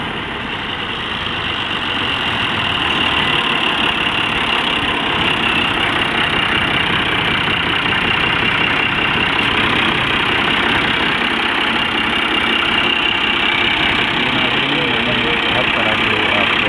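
A 1977 Fiat 480 tractor engine runs steadily at idle close by, a continuous loud rumble lasting the whole stretch with no talk over it.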